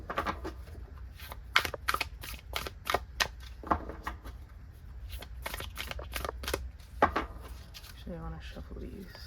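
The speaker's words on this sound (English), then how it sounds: "so I'm going to shuffle for each pile" Oracle cards are shuffled in quick bursts of sharp riffling clicks, several rounds in a row, close and fairly quiet, with a brief voice near the end.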